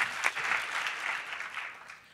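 Lecture audience applauds after a talk, a brief burst of dense clapping that swells early and then gradually fades, heard at moderate distance.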